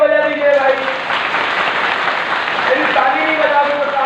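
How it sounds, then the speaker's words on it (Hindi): A crowd claps in applause at a religious gathering at Pandokhar Sarkar Dham, a dense continuous wash of clapping running alongside loud amplified speech throughout. "बोलिए पंडोकर सरकार की ताली को बजा दीजिए भाई"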